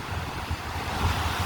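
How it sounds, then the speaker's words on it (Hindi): Sea waves surge onto a rocky beach at high tide in Pondicherry, a steady low roaring wash with wind buffeting the microphone, continuous and fairly close, with no voices. "ज्वार भाटा का मतलब होता है पानी का तट की ओर बहुत तेज गति से आना।"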